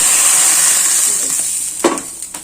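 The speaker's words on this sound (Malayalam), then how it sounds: "കടുക് എല്ലാം പൊട്ടിച്ച് ഇതിനകത്തോട്ട് ഇടുക" Crackled mustard seeds are poured into a green-tomato fish curry, and a loud, close sizzle slowly fades, ending in a couple of sharp clunks from the pan.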